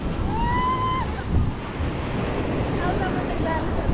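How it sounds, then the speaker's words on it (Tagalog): Ocean waves wash onto a seashore in the late afternoon, a constant loud roar with wind buffeting the microphone and faint tonal sounds drifting over the surf. "Talaga sa tabing dagat, maghahapon na."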